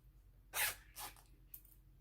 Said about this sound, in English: Unzip the zipper.